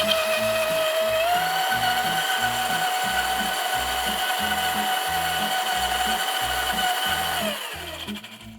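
A Vitamix blender running at its highest speed purées strawberries with a tablespoon of lemon juice, a loud steady motor whine with pulsing churning underneath that winds down abruptly at the end.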